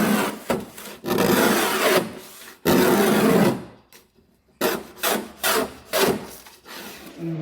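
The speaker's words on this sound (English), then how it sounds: "I'm simply going to use 400 grit on a DA, go all over it, get rid of all that shine" A DA sander with 400 grit scuffing fiberglass gel coat on van side flares in a workshop, rough rasping passes in bursts separated by brief pauses, loud and close.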